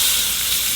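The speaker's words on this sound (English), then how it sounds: "We'll go in with our beef, and I just want you to listen to that sizzle." Beef seared in hot oil while preparing a Beef Wellington gives a steady, loud, close sizzle, an even frying hiss with no talk.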